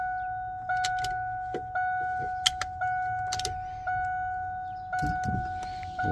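Windshield wipers on a 1996 Yellowstone RV run in a steady repeating cycle, each sweep marked by a soft motor whir and clunk at even intervals, close and fairly quiet, with faint clicks in between.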